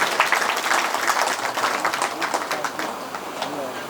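Applause greeting a guest at a religious gathering featuring Shrimad Bhagavat Krishna katha in Bhadrapur, Jhapa: a crowd's fairly soft, even patter of clapping over four seconds, with voices talking through it.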